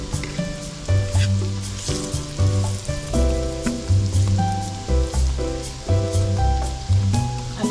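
Egg balls fry in slightly darkened, reused oil over a turned-down stove, giving a steady sizzle that runs the whole time beneath louder tonal music.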